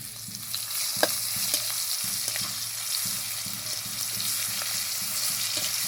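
Chopped onions fry in a pan over a tempering of spices, a steady close sizzle broken by rhythmic scraping stirs and a few small pops, no voices.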